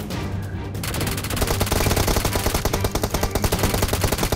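Rapid automatic gunfire in a shooter video game, with loud sustained bursts of close machine-gun fire that start after a brief quieter moment and continue densely to the end.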